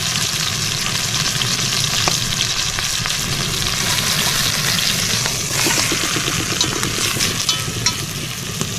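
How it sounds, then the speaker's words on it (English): Pot roast meat searing in leftover sausage grease inside a Dutch oven, a dense, steady sizzle and crackle that runs loud and unbroken throughout with no talking. "let this thing fry up here and get a good sear on it"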